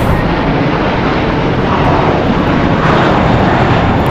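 A JetBlue Airbus A321 jet airliner, seven years old, roars loudly and steadily at close range at Los Angeles International Airport, a broad continuous engine rush with no pauses.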